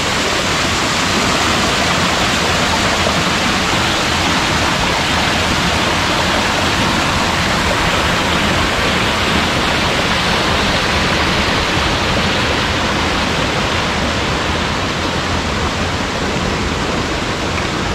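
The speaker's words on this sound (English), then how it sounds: "This waterfall is massive." Whiteoak Canyon's massive waterfall roars as a loud, steady, broadband rush of falling water, close and unbroken throughout with no voices.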